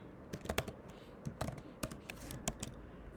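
Someone types code on a computer keyboard, with quick, close, crisp key clicks coming in short irregular bursts against a quiet background.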